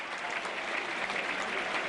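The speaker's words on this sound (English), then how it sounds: "Great applause for Lafferty, who's worked his socks off" Football crowd at Burnley's ground applauding a substituted Burnley player during a match against Crystal Palace, a steady, dense wash of clapping from a large stadium audience, continuous and moderately distant.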